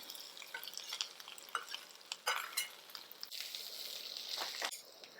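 Boiled, hand-mashed potato is stirred into a pan with green chili, making quiet, intermittent scraping and soft sizzling bursts, with a longer stir near the middle and end.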